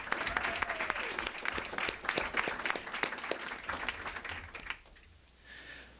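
An audience at a signing celebration applauds two young men, a full crowd clapping briskly for several seconds before it fades away.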